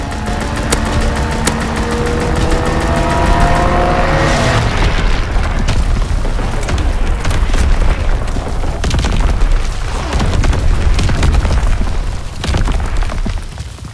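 Explosions from a strafing run in a WW2 video game at Pointe du Hoc rumble loudly and continuously, a droning engine-like tone giving way to dense, crackling blasts.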